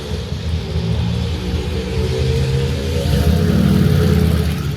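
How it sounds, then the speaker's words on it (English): A race car drives along a road in Monaco, a loud continuous engine roar with rumble that swells toward the end as it passes close by. "there's a race car coming down the road"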